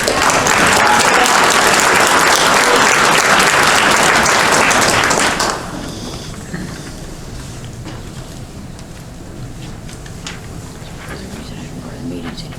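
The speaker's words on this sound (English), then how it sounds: "just give Principal Emily Redwine a round of applause, would be much appreciated." Audience applause at a school board meeting, loud and dense clapping from the room for about five seconds, then cutting off abruptly into quieter room noise.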